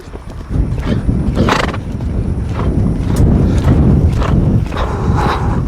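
Young colt loping outdoors, a loud, steady rolling rhythm of hoofbeats close by, with a whinny in between and wind buffeting the microphone.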